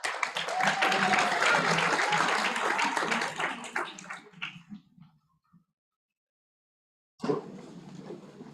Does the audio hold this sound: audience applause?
yes